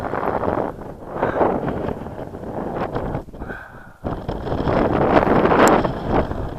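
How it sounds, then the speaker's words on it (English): Cold wind blowing across a mountain summit on the Fairfield horseshoe in the Lake District, a steady broadband rush buffeting the microphone throughout, with a brief lull in the middle before the gusts return loud and close. "I'm not going to stop up here because that wind's cold"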